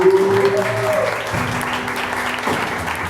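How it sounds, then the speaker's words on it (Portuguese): Church congregation claps, a short burst of dense applause with a sustained tone and murmuring voices underneath. "Salva de palmas ao Senhor."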